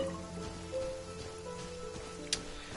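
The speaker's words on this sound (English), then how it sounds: "I hear the rain." Rain falls in Genshin Impact, a soft patter beneath game music with a brief sharp tick near the end.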